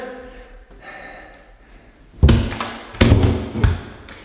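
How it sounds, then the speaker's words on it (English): Old painted closet doors in a renovated flip house shut several times in a row, a loud close thud followed by two more knocks and rattles, after a stretch of quiet room noise. "Our doors, oh, they all shut so perfectly."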